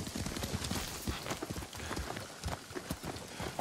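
Horse hooves clip-clop in a steady trotting rhythm in the video game Ghost of Tsushima over a dense, noisy background, fairly close and continuous.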